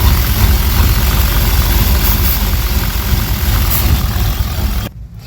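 A lowered 1992 Silverado C1500 engine idles at low RPM with a misfire, a loud, close, steady rumble that has an uneven low-end throb and cuts off abruptly near the end.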